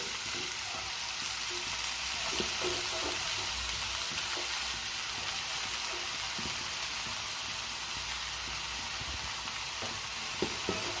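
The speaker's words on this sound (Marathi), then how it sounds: "आता आपण भाजी घालून घेऊया दोन मी मोठे चमचे तेल घातलेलं आहे" Pumpkin leaves frying in oil with garlic and turmeric in a pan, a steady close sizzle and hiss with faint stirring clicks throughout.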